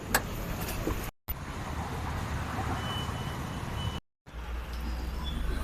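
A car pulling out at the start of a long road trip from Kolhapur to Kandivali, its engine running steadily and close, with two short breaks and a faint high beep.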